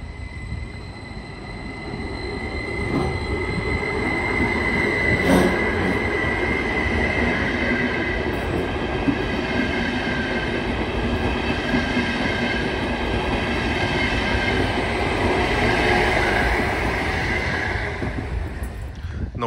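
A train rolls past a level crossing, loud and close for the whole stretch, with steady wheel rumble, rhythmic clickety-clack over rail joints and a thin squeal from the wheels, with a brief sharp burst partway through.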